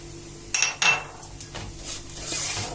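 A utensil stirs rice seasoned with salt, black pepper and raisins in a pan for a chestnut pilaf goose stuffing: a few sharp metallic clinks followed by softer scraping and rubbing against the pan.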